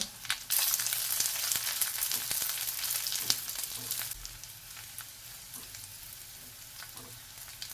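Onion fries in a pan with green chilies, garlic and ginger, giving a loud, crackling sizzle for the first few seconds. The sizzle then settles to a quieter hiss with occasional stirring clicks.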